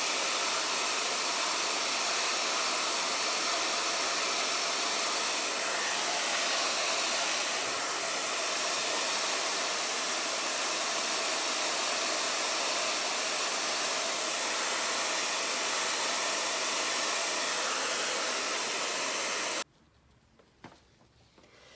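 Handheld hair dryer blowing over color-washed furniture painted with DIY clay paint, drying a door's detail: a loud, close, steady airy roar for about twenty seconds that cuts off abruptly into near silence.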